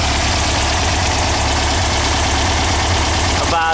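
A Volkswagen engine idles at about 1,000 RPM, loud and close, with a steady, even rumble and a faint knocking texture.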